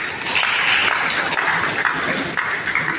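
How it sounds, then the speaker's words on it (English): Sustained applause fills a hall at a women's club 20th anniversary seminar, a dense, steady clatter of many hands clapping throughout, fairly loud and close, with no talk over it. "Please, round of applause for them, please."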